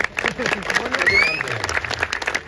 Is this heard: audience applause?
yes